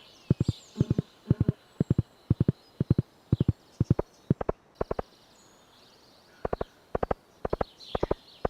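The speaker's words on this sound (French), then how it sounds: "allons-y en cheval" Horse hooves clip-clop in a steady trotting rhythm while riding in the Stardew Valley video game, crisp sharp knocks in regular groups with a brief pause before resuming, faint ambient chirps behind.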